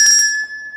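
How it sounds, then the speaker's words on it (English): A small hand bell at a maid cafe gives one bright, close ring that lingers and fades as a clear sustained tone. "You can also call the maids via a bell."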